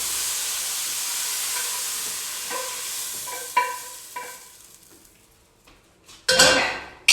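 Pork stir-fry with lemongrass being pulled from a hot pan: faint sizzling, then scattered metallic scrapes and clinks of a utensil against the pan, ending in a couple of louder clattering hits.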